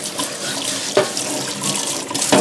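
Tap water runs steadily into a sink while a cutting board is washed, close and clear, with a couple of brief knocks of the board against the basin.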